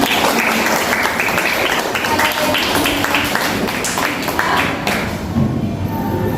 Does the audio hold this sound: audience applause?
yes